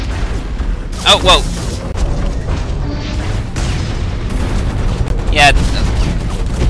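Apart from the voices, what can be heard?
battleship turrets firing, from the video game Hawken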